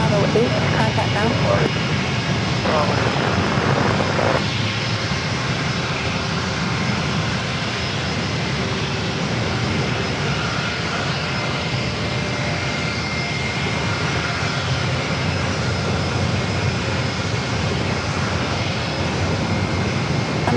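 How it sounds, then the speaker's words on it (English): An American Airlines Airbus A321 jet takes off at San Diego airport, its engines a loud, sustained roar that holds steady throughout, heard from a spotting position with no one talking. "So the A321 with American to be heading out first."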